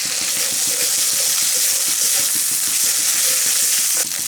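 Ground cumin and coriander paste fries in a pan with a dense, steady, close sizzle and a faint rapid bubbling underneath, running evenly with no talk.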